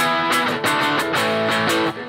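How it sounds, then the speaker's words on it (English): Fast power chord riff on a heavily distorted electric guitar, the opening intro of a song, with rhythmic chord stabs and brief gaps played loud and up close. "the main intro is based around a fast moving power chord riff"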